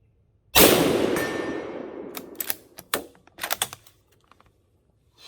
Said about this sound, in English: I'm just shooting above the 2x4.